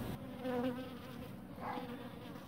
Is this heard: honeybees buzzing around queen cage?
yes